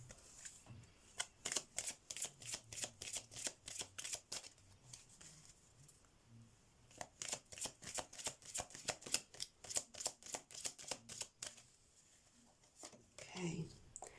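Tarot message cards shuffled in rapid riffling bursts, close and crisp, with a pause midway before a second run of shuffling and a short stretch of speech at the end.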